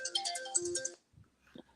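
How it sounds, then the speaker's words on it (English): A mobile phone ringtone plays a bright, close melodic phrase for about a second, then stops, leaving only a couple of faint soft knocks. "That's my phone."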